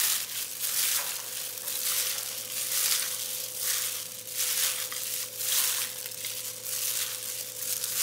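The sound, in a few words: mixing food by hand with gloves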